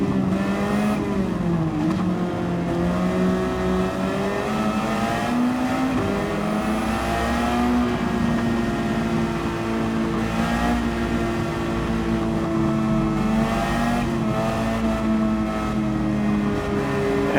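Race cars roar around the St. Croix circuit in a continuous, loud engine drone, rising and falling in pitch as the drivers shift and jostle for position in the pack, with no gaps throughout.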